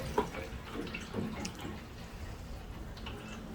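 Water draining out of old radiators in a 1925 house, soft trickling and dripping with a few small splashes and drips, quiet and close, with faint background sounds.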